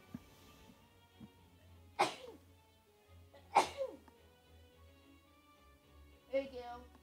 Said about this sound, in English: God, I gotta sneeze so bad.